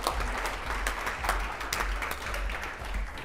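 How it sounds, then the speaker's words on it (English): Steady applause from an audience, a dense wash of many hands clapping continuously at even loudness throughout. "A round of applause for Zach."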